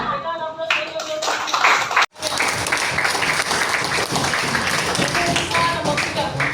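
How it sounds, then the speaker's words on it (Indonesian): Applause and clapping from a classroom audience during a teaching session, steady and fairly loud, with a brief sharp cut partway through and voices mixed in. "Berikan aplaus untuk mereka."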